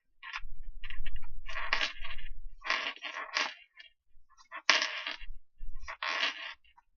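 Tarot cards being shuffled by hand, a series of quick papery riffling bursts in uneven rhythm, close and fairly soft with short pauses between shuffles.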